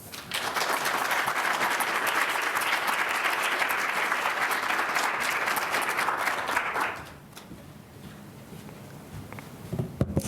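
Sustained audience applause welcomes a poet to the stage at an evening author event, steady and full for about seven seconds before dying away to quiet room noise.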